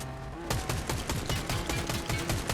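Rapid bursts of gunfire in the video game Fortnite, a loud fusillade of repeated shots in a steady rhythm, close and dense, with no talk over it.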